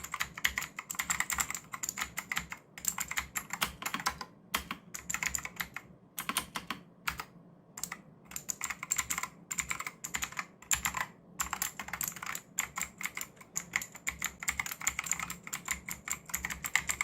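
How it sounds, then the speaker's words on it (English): Steady, fast typing on an AJAZZ AK992 wireless hot-swap mechanical keyboard, crisp clicky keystrokes in quick bursts with brief pauses, close and clear with no voices. "The keystrokes sound very impressive and very satisfying while typing."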